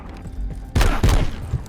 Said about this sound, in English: That sounds like that's where the gunfire's coming from